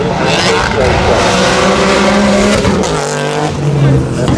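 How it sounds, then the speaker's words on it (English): A four-cylinder Toyota Yaris rally car at a sprint event revs hard and loud up close, a deep, aggressive engine roar with tire noise, while a voice talks over it. "Have you ever heard 4-cylinder sound more like a V8 before than Scott Dean"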